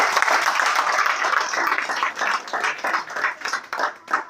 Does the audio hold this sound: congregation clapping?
yes